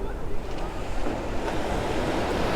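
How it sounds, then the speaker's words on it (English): Choppy sea waves wash in at S'Illot beach, Mallorca, a loud, continuous roar of surf mixed with buffeting wind against the microphone. "Now we do have slightly choppy waters today."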